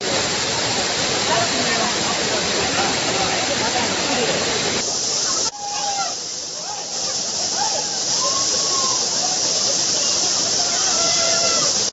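Suruli and Kumbakarai waterfalls in Theni district pour with a loud, dense, continuous roar; the rush stays steady throughout, with faint voices from bathers mixed in after a brief cut midway.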